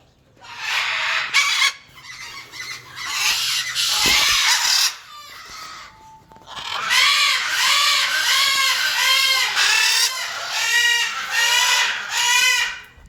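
Hand-fed baby birds in a 5 by 7 foot aviary cage give repeated, rising chirping and squawking calls in rapid bursts, loud and close, with a brief lull midway before the calling resumes steadily.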